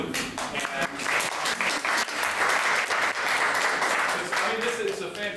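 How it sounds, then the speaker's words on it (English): Audience applause at a small business talk event about house concerts, a dense steady wash of clapping that stays loud for the whole stretch, with a voice briefly audible beneath it. "So big applause to you."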